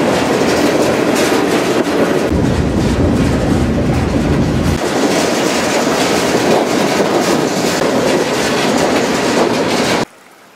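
Freight train rolling along rails, heard from close by with a loud, continuous rumble and rhythmic clickety-clack of wheels that cuts off abruptly just before the end.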